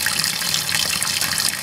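A top-loading clothes washer holding about half a load fills with water, a loud, steady rushing gush heard close up without a break.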